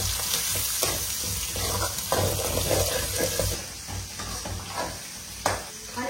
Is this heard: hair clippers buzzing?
no